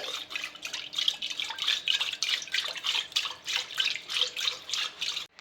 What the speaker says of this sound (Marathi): आपण आता हे रवीनी घुसळून घेऊ